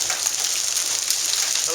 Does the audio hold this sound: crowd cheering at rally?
no